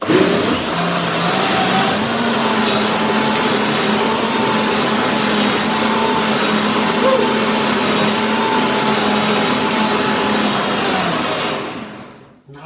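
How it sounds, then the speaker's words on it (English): A motorized blender whirs in a steady, loud drone while blending raspberries into cream for a pineapple raspberry pie, then cuts off at the end. "Just folding in or blending the raspberries easy."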